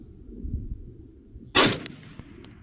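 One loud carbine gunshot cracks outdoors and rings out in a decaying tail, followed by a couple of faint ticks; the scene is otherwise quiet.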